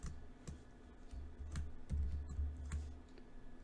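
Quiet, close computer keyboard typing while code is written: short clusters of light key clicks with brief pauses between them.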